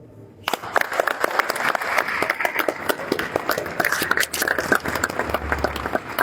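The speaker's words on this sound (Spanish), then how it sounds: "yo cerraría nada más con un gran aplauso a Virgilio Caballero" Applause for Virgilio Caballero breaks out at a tribute ceremony, rising suddenly after a quiet start into steady clapping from an audience of modest size, with individual claps audible.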